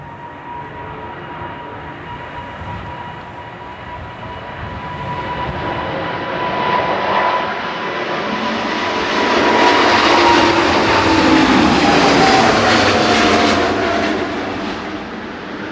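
Ethiopian Airlines Airbus A350-900 on its takeoff roll at Manchester Airport, a loud jet roar swelling to a peak then easing off as it climbs away, with a steady high engine whine gliding slightly downward.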